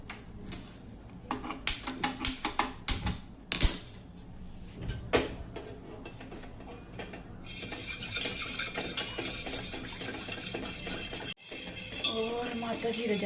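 A pot with whole cumin is stirred on a gas stove, first with irregular clinks and scrapes of a spoon against metal, then settling into a steady close hiss and rub with occasional knocks.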